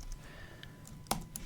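A few scattered keystrokes on a computer keyboard, quiet and close, with one sharper clack standing out among soft taps in a short, irregular burst.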